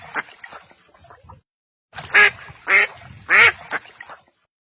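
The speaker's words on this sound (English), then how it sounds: "Drake." Drake duck quacking: three loud, raspy quacks in close succession, preceded by softer chattering calls, close and clear with no talk.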